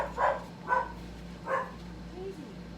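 Three short, high-pitched puppy barks in quick succession, somewhat muffled as if from another room, with a faint hum underneath.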